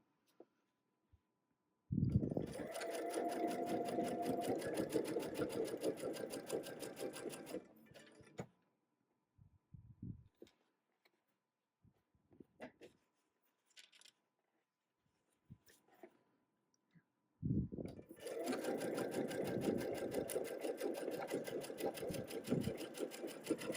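A sewing machine stitching the final seam of a butterfly quilt, two long steady runs of rapid motor whir and needle chatter, close and clear, with a quiet gap of small handling noises between them.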